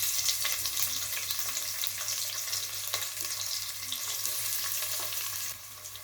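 Chopped onion frying in oil with cumin in a pan while egg biryani is being made, giving a steady close hiss broken by faint clicks of stirring, with the sizzle dropping lower near the end.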